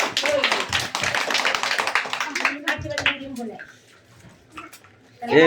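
Several children clap their hands in quick, uneven bursts, loud and close, over the first three seconds, with a voice running alongside; afterwards only quiet room sound and a few faint voices remain.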